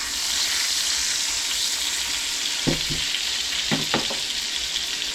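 Bison meat fries in a pan with a continuous loud, close sizzle, broken by a few low thumps and scrapes as the meat is moved, and no voices.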